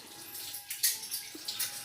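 A little water is poured into jaggery in a cooking pot, a brief soft splash and trickle close by, heard alone.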